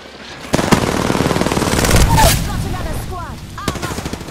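Rapid automatic gunfire in Apex Legends, a close, loud rattling burst with other shots and impacts layered in, as players talk over the action.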